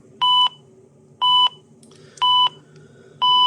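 A KRB-1 dosimeter Geiger counter gives four short, sharp electronic beeps at an even pace about one second apart. Each beep is loud and close, and there is no talk.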